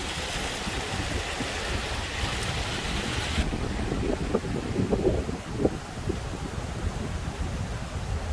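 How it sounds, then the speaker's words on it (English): Strong wind buffets the microphone at the Fort Worth Water Gardens outdoors, making a constant loud rumbling roar with faint flowing water beneath it. "The wind is blowing something major."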